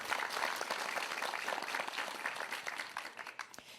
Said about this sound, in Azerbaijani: Biz İnci Musayevanı alqışlayırıq.